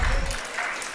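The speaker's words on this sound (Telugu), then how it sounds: "చప్పట్లు కొట్టి దేవుని స్తుతిద్దామా?" Church congregation clapping together in praise during a sermon, a dense burst of applause that begins strong and fades slightly over one second.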